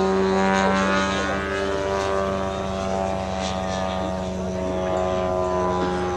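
A 1/3 scale model Spitfire's aircraft engine drones steadily overhead throughout, a continuous propeller hum at moderate distance, with faint crowd chatter in the background at an air display.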